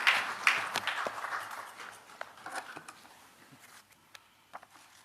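Applause for the President of Ghana after his statement at an official gathering, a dense patter of many hands that starts fairly loud and gradually thins and fades over several seconds, with a few sharper claps near the end.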